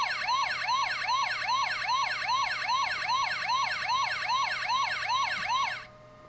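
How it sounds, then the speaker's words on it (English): A Transformers Bulkhead toy's electronic siren wails in fast, repeating sweeps, loud and steady for several seconds before cutting off abruptly. "If you hold the button down, he makes siren noises."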